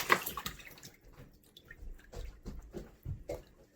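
A heavy watermelon drops into a water tank with a splash, then the water sloshes and laps in faint, irregular bursts as the fruit bobs and floats, close by with no talk.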